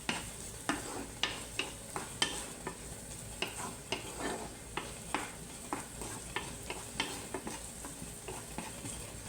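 Onions frying in a pan for a Filipino-style minced beef and veggie dish: steady sizzle broken by regular clacks of stirring utensils against the pan, close and fairly quiet, no talking.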